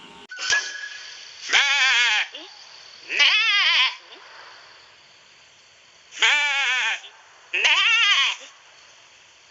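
Sheep bleating, four or five loud, wavering calls close by, each about half a second to a second long, separated by short pauses over a faint background hiss.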